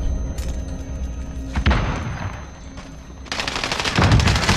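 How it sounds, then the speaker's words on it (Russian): Rapid bursts of automatic gunfire with heavy booms crackle loudly in a Call of Duty: Warzone match, a dense, continuous barrage that swells toward the end with almost no talk over it. "Стреляет."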